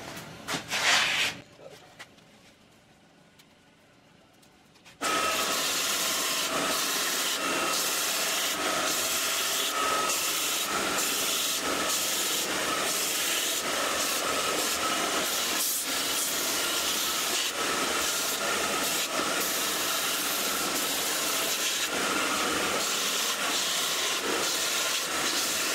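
A powered abrasive grinds knife handle scale material back to the tang on a 270mm san mai chef's knife. After a few seconds of faint handling noise, a loud, continuous, hissing grind starts and holds steady to the end.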